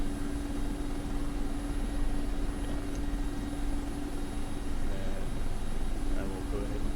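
Mi-24 Hind helicopter in the DCS flight simulator sitting ready for takeoff, a steady droning turbine and rotor hum with a constant whine, running continuously at moderate level.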